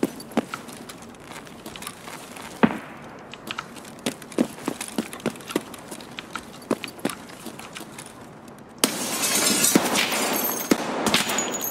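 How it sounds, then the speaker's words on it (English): Gunfire in Escape from Tarkov, sharp irregular shots cracking at moderate distance through a quiet outdoor ambience, followed by a louder burst of rushing noise near the end. "Is he shooting at you?"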